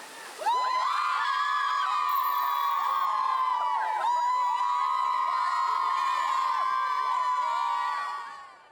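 Loud, sustained cheering and shouting from a packed crowd at a high school football game between Wyoming Area and Pittston Area, with whoops and a steady high-pitched tone running throughout before fading near the end.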